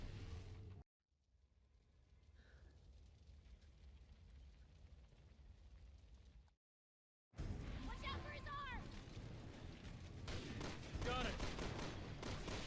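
Gunfire bursts and explosions in the video game Resident Evil 6, a rolling dense barrage loud in the second half, with a quieter stretch of combat and brief silent gaps before it.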